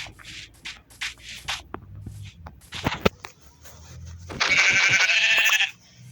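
Sheep in the video game Minecraft give a bleat among clicking and shuffling game sounds, followed by a loud, bright burst of effect noise lasting about a second.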